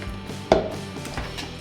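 A knife chopping the tops off fresh strawberries on a cutting board for homemade dog treats, one sharp close cut standing out above quieter handling sounds, with no talking.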